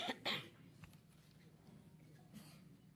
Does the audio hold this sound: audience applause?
no